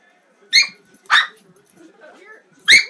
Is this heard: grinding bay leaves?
no